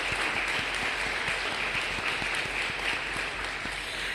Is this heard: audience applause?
yes